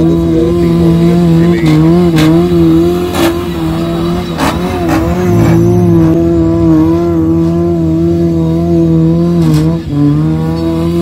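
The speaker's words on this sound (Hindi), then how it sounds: "इधर सब लोग ऐसे डोनट्स बना रहे हैं।" An off-road jeep doing donuts roars loudly and close, the engine revving and surging continuously with intermittent sharp skidding bursts from the tires.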